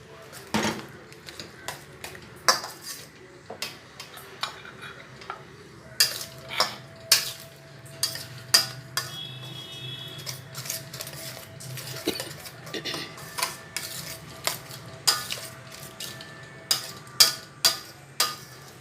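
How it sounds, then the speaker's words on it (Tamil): Egg kothu parotta is turned over and over on a pan above a low flame, the metal spatula striking the pan in repeated sharp clanks and scrapes, close and fairly regular, over a faint frying hiss. "இந்த மாதிரி குறைஞ்ச தீயில் புரட்டி விட்டுக்கிடணும்."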